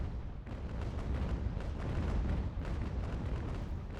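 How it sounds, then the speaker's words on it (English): Naval cannon fire in Ultimate General: American Revolution, a dense series of heavy booms and rumbling blasts rolling one after another over a continuous low roar, with no talk. "it's just from the normal cannon fire"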